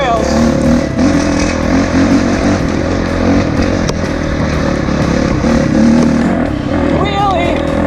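A Honda CRF450 dirt bike converted to a snowbike labors up a slope in second gear, its engine loud, close and continuous with a slight rise in pitch near the end, and a voice talking over it.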